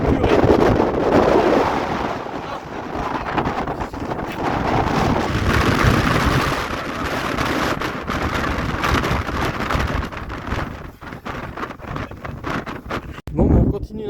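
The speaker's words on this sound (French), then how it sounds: "Le vent recommence, c'est pas possible, vous allez pas m'entendre." Strong outdoor wind buffets the microphone in rumbling, gusty waves throughout, loud and close, with someone talking intermittently beneath it.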